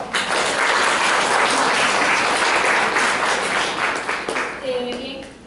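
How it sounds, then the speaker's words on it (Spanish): Audience at a school reading and literature event applauding two student presenters, dense sustained clapping from many hands that fades near the end as a voice begins. "Un fuerte aplauso, por favor."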